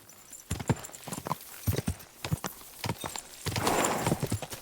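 Rhythmic clip-clop of horse hooves in Kingdom Come: Deliverance II, steady and fairly close, with a few soft thuds and a brief noisy swell toward the end.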